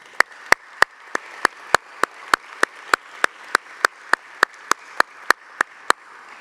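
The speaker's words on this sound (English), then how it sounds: "Let's give our families a big round of applause." A commencement audience applauds for graduates' families at a KIPP Texas collegiate ceremony: sharp claps land in a steady, evenly spaced rhythm over a soft hall hum, fairly loud and close.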